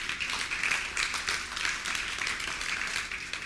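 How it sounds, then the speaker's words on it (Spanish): Congregation clapping during a Spanish-language church service, a brisk round of many hands applauding together, fairly close and steady for a few seconds without talk. "¿Alguien le da un aplauso a Cristo en esta mañana?"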